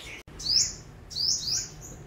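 Two bright, high chirping calls from a captive sunbird, each a short rising trill about a second apart, close and clear over a faint background hum.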